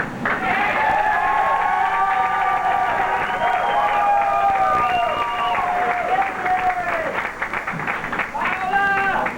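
Sustained applause and cheering from a pageant audience, a dense steady wash of clapping with crowd noise and a voice talking over it throughout.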